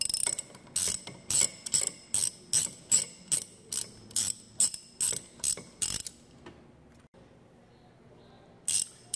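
A hand ratchet clicks rapidly in a long series of sharp, evenly spaced bursts while backing a bolt out of a centrifugal pump, then a pause of near silence before a final short click.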